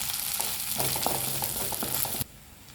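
Food fries in a pan with a dense, close sizzle and scattered pops and stirring clinks, then the hiss abruptly drops away to a quiet background.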